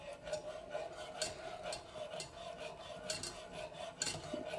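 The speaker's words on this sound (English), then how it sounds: "Pour the cheese in a little at a time and stir. You have to stir. Whisk" A whisk stirs cheese into Alfredo sauce in a pot, giving faint, repeated metallic clinks and scraping against the pot in an uneven rhythm.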